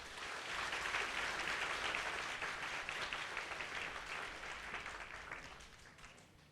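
A congregation at an evening gospel worship service applauds to welcome preacher Ko Tsz-yeung, a full, dense burst of clapping that swells early and then gradually tapers off toward the end.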